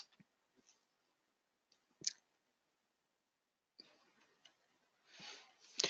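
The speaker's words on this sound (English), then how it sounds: "So let me go ahead and type in." Computer keyboard typing during tax software data entry: a few sparse, faint clicks and key taps separated by silence, ending in a quick burst of louder keystrokes.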